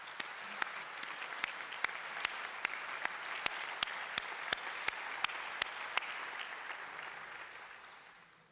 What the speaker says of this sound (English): I think they deserve another round of applause for all that they have achieved